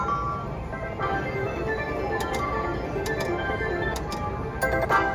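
A casino slot machine with the reels spinning, a steady mechanical whirr with faint ticking and a few bright chimes near the end. It plays alone, loud and close, with no talking.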